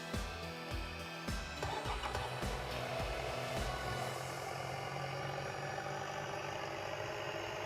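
An engine under CANplus CP1000 throttle control revs up toward a target pressure of 160 psi, its pitch rising into a steady, fairly quiet drone after some early chugging pulses, with no talk.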